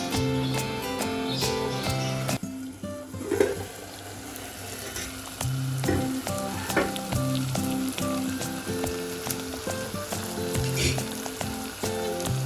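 Mutton keema with coriander powder cooks in a pan for biryani, a steady sizzle running throughout beneath prominent background music.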